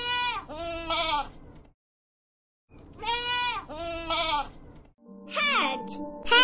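A goat bleats in two repeated bursts of wavering, nasal cries close to the listener, separated by a brief silence, followed by a higher, shriller call at the end.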